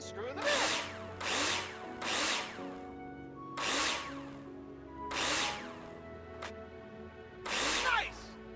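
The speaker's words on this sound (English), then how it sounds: "Take your drill out and screw them in" Power drill in Builder Simulator driving screws into plasterboard on a partition wall: six short, loud whirring bursts spaced about a second apart, each rising and cutting off, with quieter gaps between.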